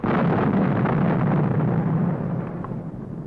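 An atomic bomb detonation roars as a loud, sustained broadband blast that rumbles heavily for several seconds before slowly tapering off, with no speech.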